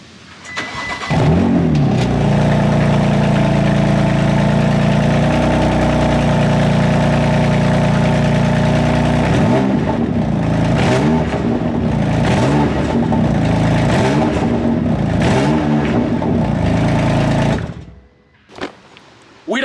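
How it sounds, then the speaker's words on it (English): A BMW M4 Competition engine starts and idles with a deep rumble, then the exhaust revs repeatedly in sharp rising and falling bursts before cutting off. "let's hear this bad boy exhaust"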